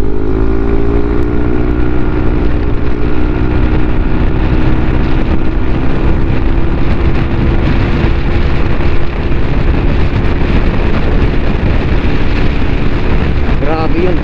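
A car with a remapped ECU accelerates hard on an open road, its engine note rising loud and close beneath heavy wind buffeting on the microphone.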